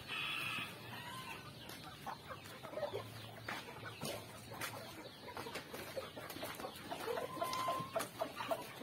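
Chickens cluck and squawk close by on a backyard farm, with irregular bursts of calls and a few higher cackles, plus some rustling and tapping over the whole stretch.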